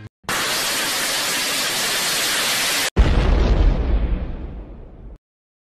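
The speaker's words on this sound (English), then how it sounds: "call the government to fire missiles at your house" Missile explosion hitting a house: a steady hiss of incoming noise, then a loud, close boom with heavy low rumble that decays over about two seconds into silence.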